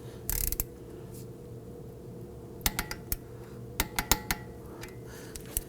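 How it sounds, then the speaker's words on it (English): Ratcheting clicks from a torque wrench tightening the front axle nut on a 2001-2009 Volvo S60 during CV axle replacement, heard as a brief burst followed by a series of sharp, close metallic clicks in irregular clusters with no talk. "We're now going to go ahead and torque down our axle nut to 25 foot-pounds."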